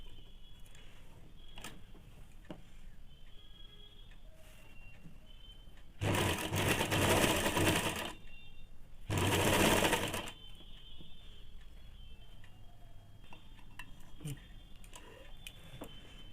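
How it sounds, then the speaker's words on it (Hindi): Sewing machine stitching a pocket on ladies' trousers, running in two close, loud bursts of rapid mechanical whirring about two seconds each, separated by quiet handling sounds. "अब इसको अंदर की तरफ करके फिर से एक और सिलाई चला देंगे।"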